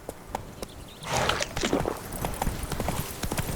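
Roach, Geralt's horse in The Witcher 3: Blood and Wine, galloping with rhythmic clip-clop hoofbeats that start sparse and build into a steady, loud run, with faint game ambience behind.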